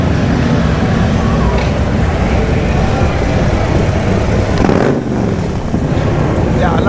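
Many motorcycles rolling through downtown streets at the 2020 Sturgis Motorcycle Rally in South Dakota make a loud, dense, continuous engine rumble and roar that swells briefly near the end.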